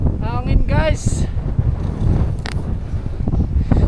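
Strong wind gusts buffet the microphone on a cold hilltop near the towering A-Ma statue in Macau, a steady rumbling roar running throughout with voices and breathy exclamations mixed in.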